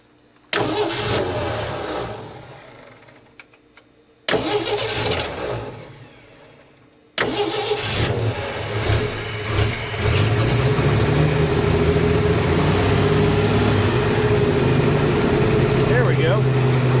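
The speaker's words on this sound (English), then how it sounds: "I'd like it to sit here and idle, but that may be asking too much of this carburetor" A 1967 Ford F-100 pickup engine with a carburetor and choke, sitting unused for over 30 years, cranks in two short bursts, then catches and runs at a steady, loud idle close to the listener.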